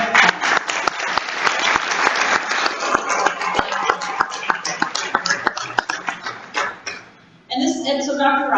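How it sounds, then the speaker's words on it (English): A conference audience breaks into sustained applause, dense clapping that fills the room for several seconds before fading out, followed by a speaker's voice resuming. "Let's give a round of applause."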